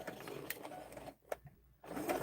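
A sewing machine stitching quilt block pieces for a drunkard's path pattern, a steady mechanical whir that pauses briefly in the middle and then starts up again, close by.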